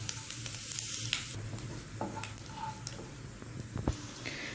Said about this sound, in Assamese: এয়া মিঠাতেলখিনি গৰম হওঁতে মই ইয়াত জিৰা দি দিছোঁ।